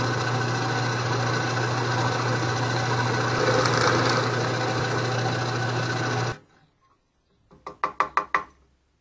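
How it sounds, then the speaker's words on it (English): A power drill bores speed holes in metal under the hood, a steady loud whine for about six seconds that cuts off, followed by a short burst of sharp rapid knocks. "Start drilling."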